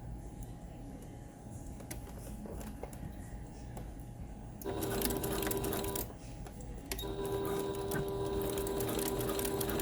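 A sewing machine fitted with a walking foot stitches fabric for a scrunchie, its motor whirring steadily up close, pausing briefly and then running faster and louder in longer bursts.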